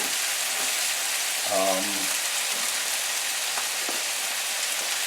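Butter sizzling in a hot pan while cooking haddock, a steady crackling hiss throughout, joined by a brief clatter partway and a few faint knocks.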